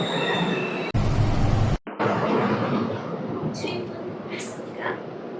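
A Seoul metro train runs with a loud, steady rumble and rushing rail noise. A sharp cut and several high wheel squeals follow, with muffled voices underneath.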